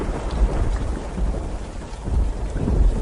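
A thunderstorm with heavy rain gives a dense, steady downpour hiss and low rumbling that swells and fades over a few seconds, with no voices.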